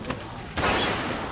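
A gunshot blasts in The Walking Dead video game, a single loud report cutting in sharply after a brief quieter stretch and ringing into a sustained noisy tail.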